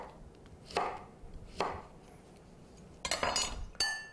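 A knife cuts an overripe pear into slices on a board, producing five or six crisp, isolated chopping taps at irregular intervals, close and fairly quiet, with no voices.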